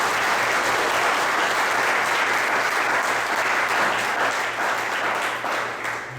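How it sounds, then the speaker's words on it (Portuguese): A church congregation breaks into steady, dense applause that fills the room at close range and holds strong throughout, with a low electrical hum running beneath it. "Vamos dar uma salva de palmas."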